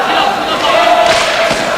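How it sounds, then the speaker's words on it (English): A crowd of fans cheering at an Olympic ice hockey game, Canada vs Norway, a dense continuous roar with shouts under a commentator's voice. "He has really led the cheering right in the middle of some Norwegian fans."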